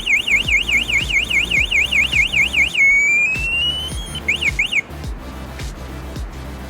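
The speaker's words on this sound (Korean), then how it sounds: "이 버튼을 눌러준 상태에서 누군가 내 자전거를 건드리게 되면 큰 소리로 알람이 작동됩니다." The anti-theft alarm on an X-RIDER X100 retro e-bike blares close by as a loud, rapidly warbling electronic siren, then shifts to a rising tone before a few final chirps and silence.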